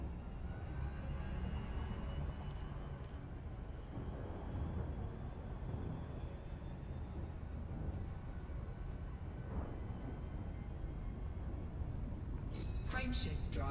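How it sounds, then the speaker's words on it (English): An Elite Dangerous frame shift drive charging, heard as a steady low rumbling hum that slowly rises over the length of the clip, with faint clicks near the end. "Frameshift drive charging."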